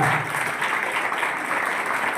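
Audience applause at a nasha mukti (addiction recovery) centre gathering, a dense steady wash of clapping that holds at a constant loud level throughout.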